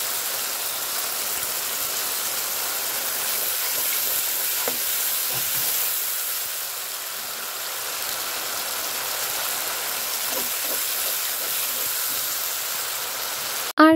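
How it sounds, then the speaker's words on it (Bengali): A turmeric, ginger and garlic paste spice mix is sautéed for a Bengali fish curry, giving a steady close frying hiss throughout, with faint scraping stir strokes now and then and no talking. "আমি মশলা কষানোর জন্য এখানে হলুদ তৈরি, আদা, রসুন বাটা সবকিছু পরিমাণ মতো দিয়ে মশলাটা কষিয়ে নিচ্ছি।"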